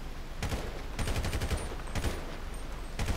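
Gunfire in Grand Theft Auto 5 comes as several rapid bursts of sharp shots in quick succession, loud and close, separated by short pauses over a steady game background.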